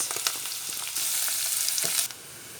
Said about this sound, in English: add your chopped up onion in it as well, and just brown them off with the meat